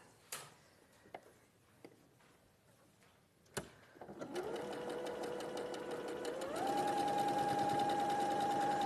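A sewing machine sews a quarter-inch seam on a quilt block, starting after a few light clicks and taps, then running in a steady close whir that speeds up toward the end.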